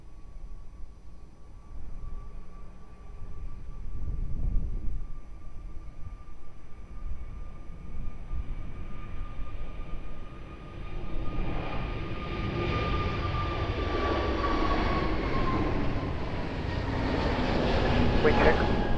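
Airliner taking off from runway 02 at Lisbon Airport, a steady jet engine roar building gradually from moderate to loud over the clip, with a rising whine and broad rumble, and radio chatter heard faintly underneath.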